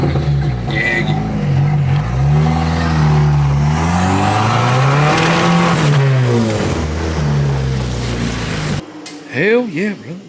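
A turbocharged Jeep Wrangler drives up the road, its engine droning loud and close with rising and falling revs and turbo flutter, then cutting off into excited talk.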